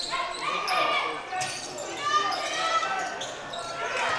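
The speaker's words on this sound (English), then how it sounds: "And ball bounces around as Carly Pankratz gets control." A basketball bounces on a hard court amid crowd noise and squeaking shoes, with a commentator talking over it.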